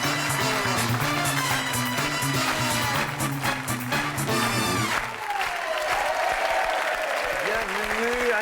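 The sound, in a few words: audience applause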